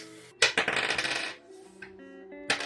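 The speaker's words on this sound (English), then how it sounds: "so I rolled a dice" A die being rolled on a hard surface: a sharp clatter, then a fast rattling tumble that settles with a few ringing taps, followed by another knock near the end.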